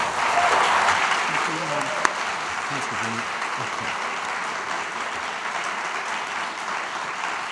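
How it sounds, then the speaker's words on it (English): A conference audience applauds panellists at a panel discussion, a dense wash of clapping that is strongest at first and then holds steady, with a brief spoken thanks over it. "Please give our panellists a round of applause."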